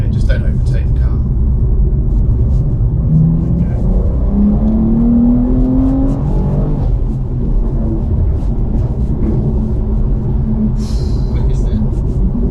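A powerful supercar accelerates along a road, a deep engine rumble rising in pitch through a gear as it picks up speed, heard from inside with people talking over it.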